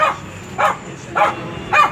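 A dog barks in an evenly spaced series of four yappy barks, fairly close and loud, with quiet room noise between them.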